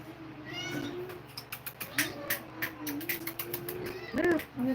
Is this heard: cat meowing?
yes